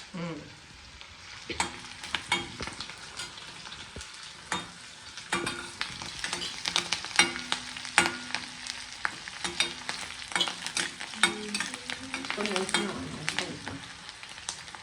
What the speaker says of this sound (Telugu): తాలింపు వేసినాక పచ్చిమిర్చి, ఉల్లిగడ్డ, కరివేపాకు, తాలింపు గింజలు అన్నీ వేసినాను.